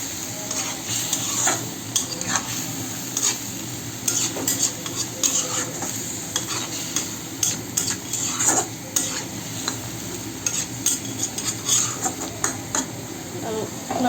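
Cut taro stems tipped into a pan with dried ola and chewa fish, then stirred, a soft sizzle of frying under intermittent scraping and clinking of a spoon against the pan, fairly quiet and close.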